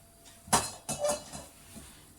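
A kadai is set down on a stove with a couple of clanking metal knocks, the first sharp and the next duller, followed by a faint rattle.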